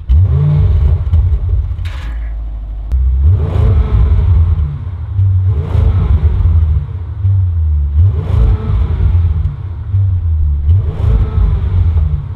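A Ferrari 812 Superfast V12 is revved repeatedly during a sound check, with loud close bursts rising and falling about every two to three seconds over a steady rumbling idle and no talking.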